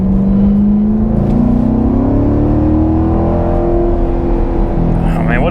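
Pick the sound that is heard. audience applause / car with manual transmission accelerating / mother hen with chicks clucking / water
car with manual transmission accelerating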